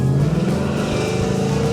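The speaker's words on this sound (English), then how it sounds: "But listen to this exhaust." A car exhaust burbling and revving loudly up close on a downtown Wilmington street, a deep rumbling engine note with rapid pulsing, no voices.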